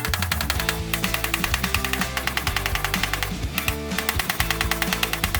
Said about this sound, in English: So now we can hammer it a little bit more and try to get it as good as possible.